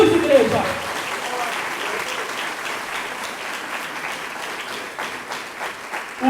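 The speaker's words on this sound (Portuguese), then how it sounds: "Você pode aplaudir o nome do Senhor Jesus, igreja." A church congregation applauds during a sermon, a dense, steady wash of clapping that carries throughout and fades slightly near the end.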